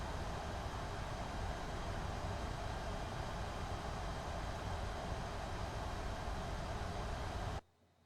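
A JARDesign A330 in a flight simulator: a steady, broadband jet roar holds at an even level with no audible rise or fall, then cuts off abruptly near the end.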